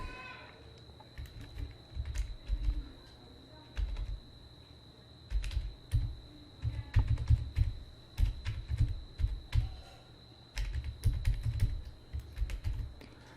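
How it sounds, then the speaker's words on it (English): Typing on a computer keyboard: bursts of quick key clicks in irregular clusters separated by short pauses, close and moderately quiet over a faint steady hum. "So let's type something."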